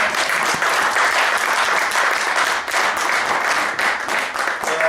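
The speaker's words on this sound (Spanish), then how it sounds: "Demos un aplauso al DJ" A crowd applauds loudly and continuously, dense clapping filling the room without letting up.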